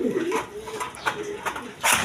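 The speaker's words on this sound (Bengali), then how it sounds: "এখানে এক পেয়ার সিরাজি লাহোরি কবুতর আছে" A pair of Sirazi Lahori pigeons, one male and one female, coo softly and close up, with low murmuring calls and some background noise and movement.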